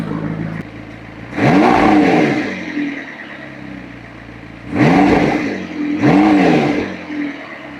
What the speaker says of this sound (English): Try giving it some gas and see if it...